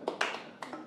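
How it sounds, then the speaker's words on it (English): Three hand claps in quick succession, sharp and fairly light, with a short gap before the third, heard alone in a comedy club setting. "3 claps."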